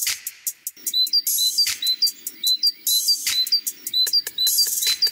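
Bird song in repeated bursts of sharp, high chirps and trills, close and clear, with short pauses between phrases.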